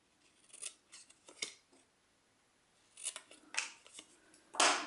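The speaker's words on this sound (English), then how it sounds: "So I'm just going to use my snips." Snips cutting wasabi paper for a crafting project, several short crisp snipping bursts in two clusters separated by a pause, close and fairly quiet.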